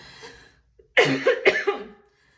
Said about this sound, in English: I've coughed only in your reading.